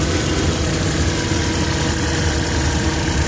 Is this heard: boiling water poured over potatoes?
no